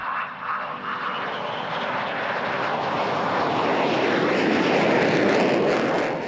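An F-22 Raptor fighter jet's engines roar in a loud, continuous broadband rumble that swells slightly and holds steady throughout, with no voices over it.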